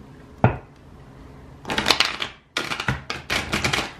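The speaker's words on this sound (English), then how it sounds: "one more shuffle." A deck of playing cards being shuffled: a short riffle snap near the start, then two longer bursts of rapid, crisp fluttering clicks, close and fairly loud, with no talking.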